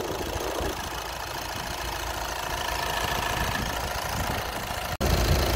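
A VW Passat 2.0 TDI diesel engine with an overheating fault idles steadily at a low, even hum before abruptly cutting off near the end.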